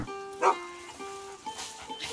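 A dog barks once in the game A Plague Tale: Innocence, a single brief bark set against a steady musical soundtrack, followed by fainter in-game sounds.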